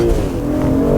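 A BMW M340i engine pulls hard under acceleration, a loud, steady drone with rising harmonics heard from inside the cabin, with no talking.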